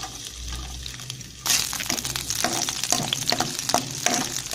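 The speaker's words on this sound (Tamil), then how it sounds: "ஸோ இப்போ எண்ணெய் காஞ்சிருச்சு. நான் அதில் பூண்டு ஆட் பண்ணிக்கிறேன்." Garlic hits hot oil with a sudden loud sizzle partway through, then crackles and spits steadily close by, with a few stirring scrapes after a quieter start.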